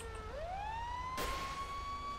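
A fire truck siren in a car video game wails upward and then holds a steady tone, with a short loud burst of noise partway through.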